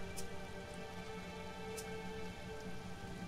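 Rain in the survival video game Sheltered, a steady, even wash of rainfall with a couple of sharp drop ticks over a constant hum, no voices.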